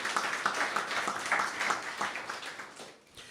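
Audience applause at an anniversary celebration event, a steady wash of many hands clapping for a few seconds and then tapering off, with no talk over it.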